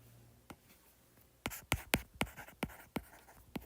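A pen writes an equation by hand on paper, giving a sparse series of short, close scratchy strokes after a quiet start, with no talking.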